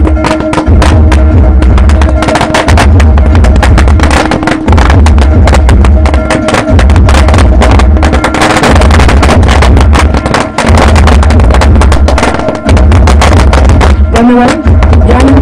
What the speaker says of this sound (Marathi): कार्यसमिती काँग्रेसचे प्रदेशाध्यक्षांचं स्वागत फटाक्याच्या आतषबाजीमध्ये केलं जातं